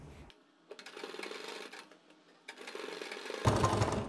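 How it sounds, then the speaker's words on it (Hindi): Sewing machine stitching along the edge of a fabric piece while attaching piping, with bursts of rapid mechanical stitching that start, pause and resume, growing louder near the end. "अब हम जो सिलाई मारेंगे वो अपने कपड़े की इस वाली किनारी पर सिलाई लगाएंगे"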